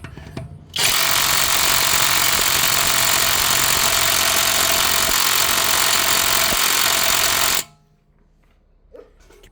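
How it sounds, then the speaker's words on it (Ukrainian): A new cordless impact wrench, run on a cheap battery-powered unit with a changed socket, loosens a rear wheel nut: one loud, sustained buzzing rattle of about seven seconds that stops abruptly, then near silence. "Гайковерт, кстати, новий теж."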